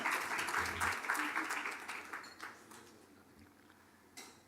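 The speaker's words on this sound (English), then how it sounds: "So, one more round of claps for IAA." An audience at an advertising industry seminar applauds, a dense patter of clapping that gradually fades away, with a brief final burst at the end.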